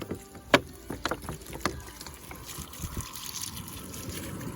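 Water from a jug trickles and splashes onto a houseplant, with a few sharp splashes early on, then a soft, steady dribble close by and no talk.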